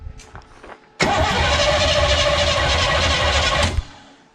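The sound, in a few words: 1961 Pontiac Laurentian 350 engine cranking on first start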